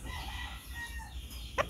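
A rooster at a gamecock farm gives a brief, faint crow in the distance, a short burst near the end over a low, steady background rumble.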